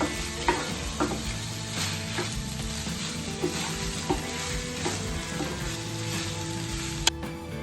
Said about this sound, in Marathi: लेमन ज्यूस ऍड करूया बघायची आणि छान मिक्स करून घेऊयात.